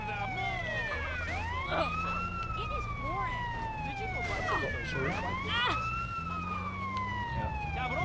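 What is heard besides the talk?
ambulance siren in a video game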